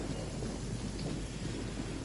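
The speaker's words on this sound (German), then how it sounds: "Da hat jetzt gerade der Blitz eingeschlagen." A lightning strike during a storm in Genshin Impact brings a loud, sustained thunder rumble over heavy rain on surfaces, a dense roar that stays constant for the whole stretch without any talking.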